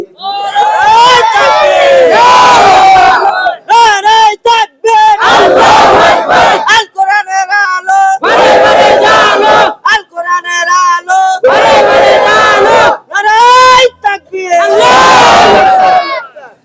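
Large crowd at a Bengali Islamic religious gathering shouting takbir in unison, repeated loud massed chants in bursts separated by short pauses, with a leading voice calling between them.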